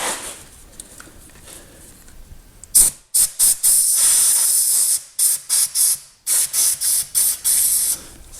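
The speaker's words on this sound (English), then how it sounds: "Here's our compressed air." Compressed air blows dirt out of a John Deere fuel part in a series of loud, close, sharp hissing bursts, one long blast followed by about eight quick on-off puffs, with no speech.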